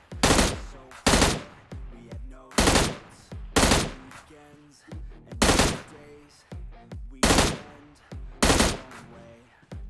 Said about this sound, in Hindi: इतनी गोलियां उड़ाता हूँ, वो मरता ही नहीं है